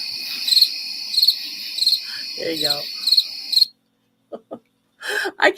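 Crickets chirp from a soundboard effect, loud rhythmic pulsing trills repeating in regular bursts over a few seconds before stopping abruptly; someone speaks briefly partway through and again after the chirping ends.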